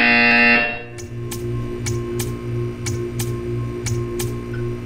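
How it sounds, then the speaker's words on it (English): A harsh, loud buzzer from a Portal community-made game blares for under a second, then gives way to a soft, steady ticking pulse. "You will hear a buzzer."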